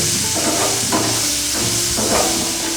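Chopped okra sizzles steadily in a hot pan for a bendi fry, with a spoon scraping through it in several stirring strokes. No one speaks.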